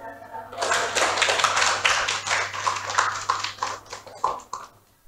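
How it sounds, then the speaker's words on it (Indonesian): A classroom of students bursts into a round of applause, dense clapping swelling for several seconds and then thinning out into scattered claps. "Berikan tepuk tangan."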